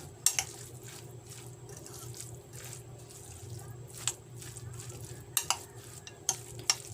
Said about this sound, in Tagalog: Haluin nyo mabuti hanggang sa ma-mix lahat ng nilagay nating mga pampalasa.